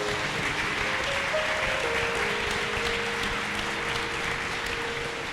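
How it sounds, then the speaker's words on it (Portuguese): Church congregation applauding in praise during a Portuguese-language worship service, a steady dense wash of clapping held throughout with sustained organ or keyboard tones underneath. "Dê uma salva de palmas a esse Deus."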